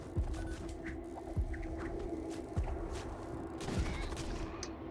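Missiles strike the player's ship in the space game Void War, making about four dull, evenly spaced thuds over a faint, constant hum.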